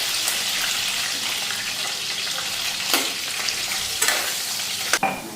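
Potatoes lightly frying in a pan give a constant soft sizzle, broken by occasional scrapes and knocks of a spoon stirring them, with no talking.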